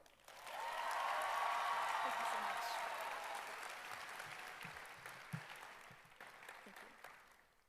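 An audience at the 2025 Harrison School for the Arts graduation ceremony applauds graduate Leighton Wyatt, a swelling wash of clapping that peaks early and slowly fades, heard from a distance in a large hall.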